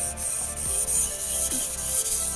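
A Japanese gyuto knife blade scraping back and forth on a whetstone in steady repeated strokes, close up, with a gritty rubbing texture and brief pauses between passes.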